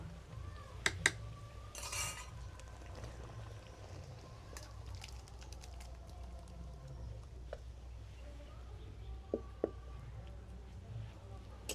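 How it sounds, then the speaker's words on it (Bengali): A dal masher scrapes and knocks in a pot of banana flower ghonto, giving quiet, sporadic metallic clinks and stirring sounds over a low background hum. "সেই ঘন্ট ঘাটার জন্য কিন্তু একটা ডাল কাটা নিয়েছি এটা দিয়ে একটু ঘেঁটে দেবো"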